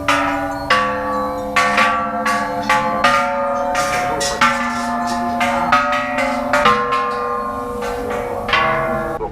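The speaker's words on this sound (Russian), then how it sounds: "Где-то примерно на середине пути встречается вот такой гигантский гонг." A giant gong at a Buddhist temple in Bangkok is struck about a dozen times in quick succession, and each loud metallic hit rings on with a long, shimmering vibration that overlaps the next stroke.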